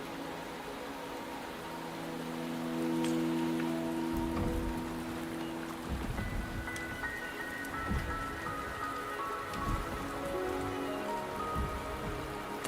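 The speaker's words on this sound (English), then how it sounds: "The rain is subsiding," Steady rain patters on surfaces in the Wuthering Waves game, soft and even, with occasional heavier drops and faint ambient tones underneath.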